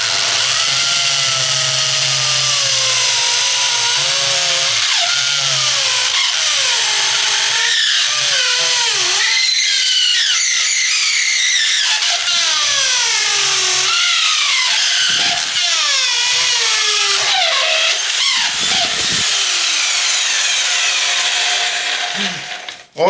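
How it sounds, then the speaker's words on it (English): Black & Decker BDHD500 corded hammer drill boring into soft brick and concrete, running loud and continuous with a whining, shifting pitch and short dips as pressure changes, then cutting off at the end. "Definitely is doing an amazing job drilling and this soft brick with concrete."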